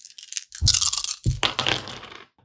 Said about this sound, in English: So we're going to roll 7 dice.